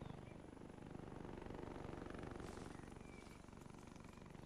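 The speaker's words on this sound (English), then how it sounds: "A helicopter's coming around." A helicopter circling in a combat video game, with a steady, faint, chopping engine drone throughout and no speech over it.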